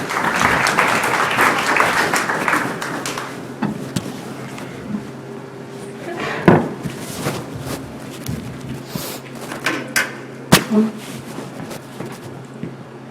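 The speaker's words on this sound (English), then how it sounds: "round of applause for Mariah." Audience at an improv comedy show applauding a volunteer named Mariah, a brief burst of clapping that quickly dies away into room noise, knocks and footsteps on stage.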